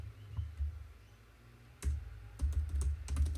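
Keys clatter on a computer keyboard while a CSS style sheet is typed in, with a few soft early taps and then a quicker burst of close, light clicks, quiet and without speech.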